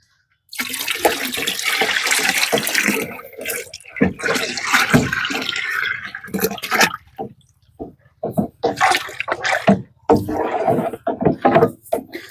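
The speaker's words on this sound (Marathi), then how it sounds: "हे पाणी टाकून घ्यायचं एका टाकीमध्ये" Water poured from a bucket into a tank, a fertilizer solution being mixed; a loud, continuous gushing and splashing that runs almost throughout, with a few short breaks.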